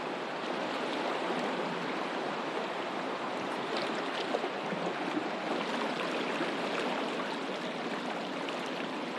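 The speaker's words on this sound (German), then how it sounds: "Dann das jeden Moment neu dahinströmende Wasser." River water flows through the Ammer gorge in a continuous, even rushing hiss, moderately loud and unbroken, with no voices.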